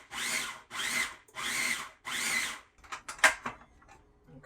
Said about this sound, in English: It's not that bad because it wasn't grinding it really well the first time.